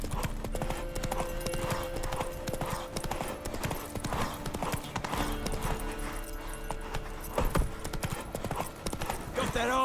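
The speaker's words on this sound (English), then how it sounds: "Run, Roach." A horse gallops in the video game The Witcher 3, its hooves beating a fast, steady clip-clop for the whole stretch over game music, with voices faintly present.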